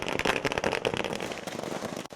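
Firecrackers burst at an AIADMK political celebration near the bus stand in Thiruthuraipoondi, Tiruvarur district, a dense, rapid string of sharp cracks and pops crackling continuously at moderate distance, without speech.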